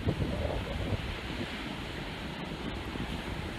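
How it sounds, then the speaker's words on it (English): Ocean surf on Tybee Island beach roars steadily with wind buffeting the microphone, a broad continuous wash of breaking water and no voices. "The waves are getting kind of big."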